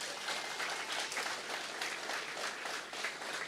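Sustained applause from a crowd at a political manifesto presentation for the 2020 general elections, steady dense clapping throughout with no break.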